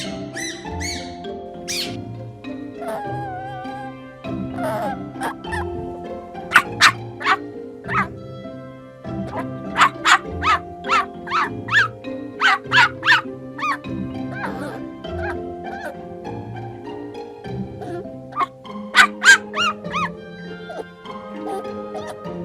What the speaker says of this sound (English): It's a jackal.